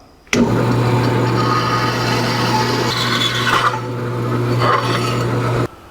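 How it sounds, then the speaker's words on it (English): A bandsaw cuts through metal for a front straight axle lift on a 1949 Chevrolet gasser, a loud, close, steady rasping grind with a constant motor hum that starts abruptly and runs unbroken for about five seconds before cutting off. "And over to the trusty bandsaw we go. So here we go on the cut."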